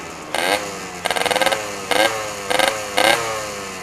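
A Yamaha RX King two-stroke motorcycle fitted with an Altech C20-style exhaust, revved in five short sharp blips with a buzzing, rattling note. Each burst rises and falls quickly, close and loud over a low idle.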